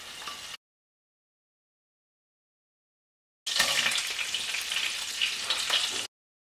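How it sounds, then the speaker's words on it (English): Vegetables frying in a pan for Ghana meat pie, a bright sizzling hiss cut short at the start, then after a pause of silence returning loud and close for a few seconds before stopping abruptly. "I'm going to take it out of the pan and then cook my vegetables"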